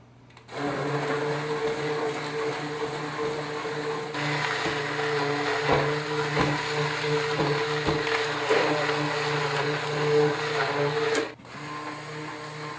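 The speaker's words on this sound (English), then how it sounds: "I'm going to puree all of the ingredients, the squash, the apples, the chicken stock, the curry, and the onions until it's smooth" A blender whirs steadily and loudly for about ten seconds as it purees butternut squash, apples, chicken stock, curry and onions into soup, then cuts off abruptly, with no talking.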